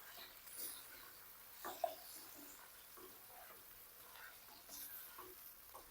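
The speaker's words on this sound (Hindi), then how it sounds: "इस मौके पे जब हम हरी मिर्चें डालेंगे तो हरी मिर्चें हल्की सी फ्राई हो जाएंगी" Green chillies fry in hot oil in a pot for Afghani chicken karahi, a soft steady sizzle with occasional clinks from stirring, heard close and quiet.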